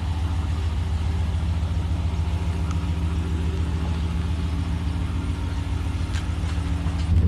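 Car engine idling and rumbling steadily while being parked near a driveway, a loud, close, continuous low hum with no talking over it.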